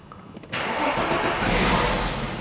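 A Mercedes-Benz W210 car being checked for a fault catches after a brief quiet start and then runs with a loud, close, sustained engine roar that holds steady to the end.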